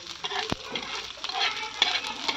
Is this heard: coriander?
yes